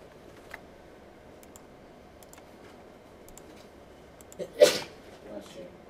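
A single loud, sharp sneeze bursts out in a quiet college lecture room, standing alone against faint background hum and scattered small clicks.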